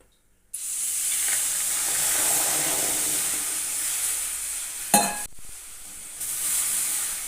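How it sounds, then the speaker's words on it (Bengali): Water goes into a hot wok on a gas stove, bursting into a loud, steady hissing sizzle that runs for several seconds, broken by a sharp clatter near the end, with no talk. "কড়াইতে দিয়ে দিচ্ছি পরিমাণ মতন জল"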